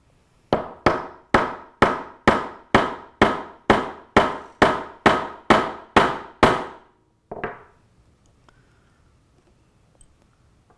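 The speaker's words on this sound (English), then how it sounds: "then I'm going to hit it with the mallet several times until we see that nice expressed" A mallet strikes a tubular rivet into a leather buckle strap thirteen times in a steady rhythm, each a sharp, loud, close knock, followed by one softer tap and then quiet.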